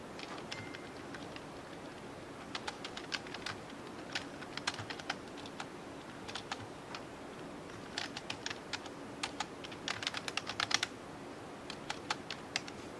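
Keys on a computer keyboard tap in scattered bursts of quick, light clicks, faster clusters toward the end, close and alone over a faint steady room hiss.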